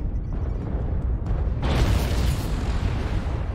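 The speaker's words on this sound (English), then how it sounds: "Artillery strike" Artillery strike explosions in the video game MechWarrior Online: rumbling booms build and then a heavy blast swells, loud and sustained with a deep low roar and no voices.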